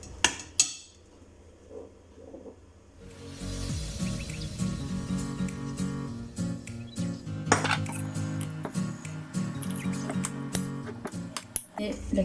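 A spoon mixes sugar into mascarpone in a bowl for a strawberry basil tart, with clinks and scrapes of utensil against the bowl and clattering dishes, heard close alongside talk.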